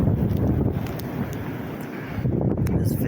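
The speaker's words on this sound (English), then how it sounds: "It's very windy out here." Strong wind roars in gusts through a mountain blizzard, blasting the microphone with heavy, continuous low rumbling and buffeting that swells and eases over a few seconds.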